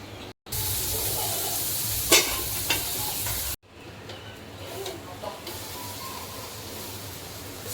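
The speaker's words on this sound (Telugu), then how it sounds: "ఇప్పుడు దీన్ని పెంక మీద నేను ఫ్రై చేసుకుంటున్నా" Marinated brinjal slices, laid straight into the pan without any flour coating, fry with a steady close sizzle that swells loudly for a few seconds, then settles into a quieter crackle with occasional pops and no talking.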